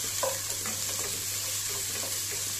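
Finely chopped onion sautéing in a pan for Maharashtrian kande poha, a dense, even hiss of frying that holds steady throughout, with faint stirring touches and a low hum underneath.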